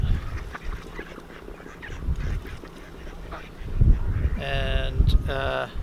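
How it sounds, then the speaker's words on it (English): Ducks by the river at Henley-on-Thames quack in a quick burst of several honking calls near the end. Earlier there is soft outdoor noise with faint movement sounds and no close voices. "You can hear the ducks."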